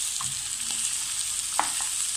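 Tomatoes fry in a pan, with a constant bright sizzle filling the background and a few soft clinks and stirring sounds breaking through, heard close with no talking.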